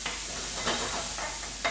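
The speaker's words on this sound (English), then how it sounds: "I'll fry these onions off" Onions sizzle in oil in a hot pan over medium heat, a soft steady frying hiss with faint stirring scrapes, close and quiet with no voices.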